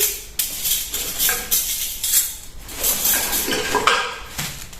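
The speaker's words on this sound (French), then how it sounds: "Il y a des cuillères, des fourchettes, des couteaux, mais je ne peux pas tout vous montrer." Spoons, forks and knives clatter and clink as they are handled during an unboxing, a busy run of close metallic rattles and chinks across the whole stretch with no talk.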